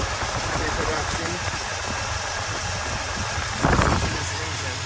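1968 Dodge Super Bee with an original engine showing about 31,000 miles, idling steadily at a moderate level. A person talks over the low rumble, and a brief louder burst arrives near the end.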